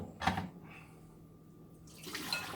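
Water poured out of a Philips Saeco Incanto coffee machine's container, heard as quiet splashing bursts at the start and again near the end, with a calmer trickling stretch between, fairly faint and close.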